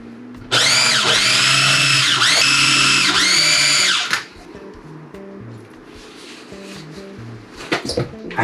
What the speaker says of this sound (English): just bring back into your food processor and make sure mix all together